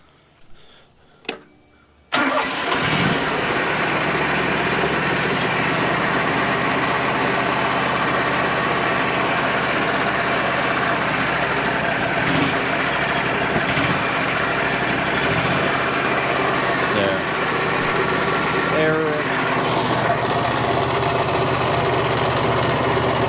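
A broken sawmill's electric motor starts up after a few brief clicks and then runs with a loud, steady mechanical drone, with occasional knocks and shifts in the roar along the way.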